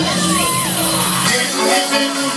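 Large crowd screaming, whooping and cheering loudly together on cue, a dense roar of many voices with rising and falling yells close by.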